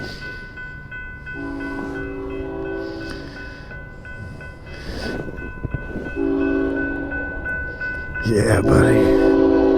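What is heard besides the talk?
old freight train passing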